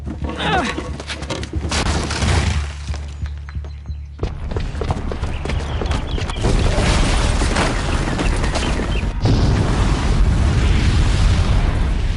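A bomb booby trap goes off in Horizon Zero Dawn as a loud, rumbling explosion with sustained roaring debris and bursts, heavy and close, with game voices over the din.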